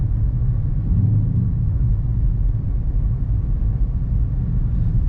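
A Dodge Charger RT engine drones low and steady while its tyres lose grip in snow, a continuous rumbling hum with no clear spikes and no talk.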